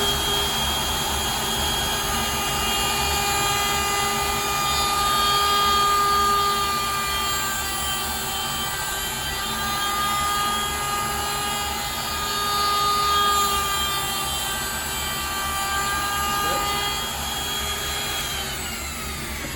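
A wood router whines steadily, cutting a circle in a wooden wine topper, a loud continuous high-pitched motor tone with a constant load and no pauses, close by.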